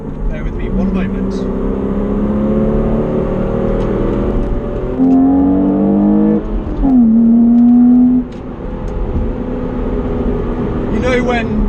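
A car pulls out and accelerates past a slow Nissan Note on a 60 road, its engine note rising steadily and loudly, heard from inside the cabin under continuous talking.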